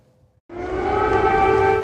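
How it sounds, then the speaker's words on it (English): Air raid siren wailing in central Kyiv, Ukraine, a steady sustained tone that starts abruptly after a brief quiet moment and holds loud and continuous to the end. "Amid air raid sirens, Biden and Zelensky walking around the"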